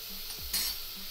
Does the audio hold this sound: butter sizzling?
yes